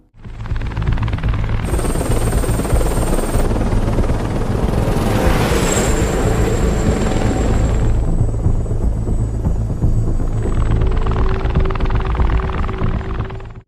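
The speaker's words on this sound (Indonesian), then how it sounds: "Donnie dibawa dengan helikopter menuju sebuah tempat terpencil di Italia" Helicopter in flight in an action film scene, a loud continuous rotor and engine roar that fills the whole stretch, with shifting high whines and swells layered over the deep steady drone and no talk.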